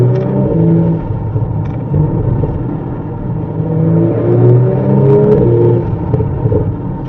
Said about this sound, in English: We've got some pops from the exhaust as well.